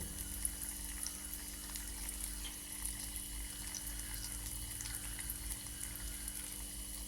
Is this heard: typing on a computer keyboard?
no